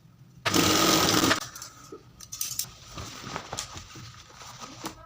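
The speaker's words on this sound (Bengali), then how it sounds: "চেনটাকে ডান পকেটের সাথে আমি লাগিয়ে নিলাম সেলাই দিয়ে" A sewing machine runs in a fast steady burst, stitching a zipper onto trousers, then stops and leaves scattered clicks and handling knocks of fabric and metal.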